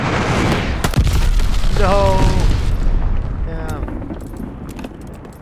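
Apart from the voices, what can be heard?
allied glide bomb explosions in video game Call of Duty: Vanguard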